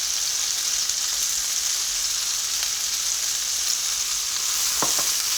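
Garlic cloves sauté in a pan with tomatoes and onions, giving a steady bright hiss and crackle with a few soft stirring scrapes near the end, and no voices.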